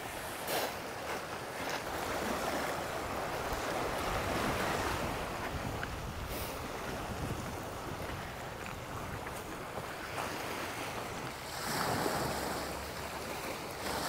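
Waves wash steadily onto the unguarded Plage de la Moute at Saint-Tropez, with strong wind buffeting the microphone in a continuous broad roar that swells in places.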